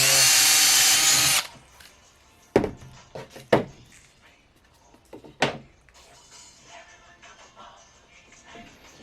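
A power drill whirs loudly for about a second and a half, then stops, followed by scattered knocks and clunks of handling tools.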